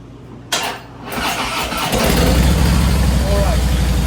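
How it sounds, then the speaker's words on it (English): A 2017 Harley-Davidson Softail motorcycle cranks over with the starter and catches, then settles into a loud, steady, close idle. "We're gonna turn on the bike."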